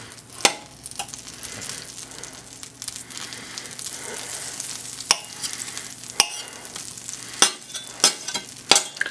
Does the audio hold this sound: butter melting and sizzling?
yes